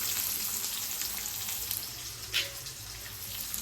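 Onions sizzling steadily in hot oil, a continuous bright frying hiss with a brief louder spit near the middle, close and unaccompanied by talk.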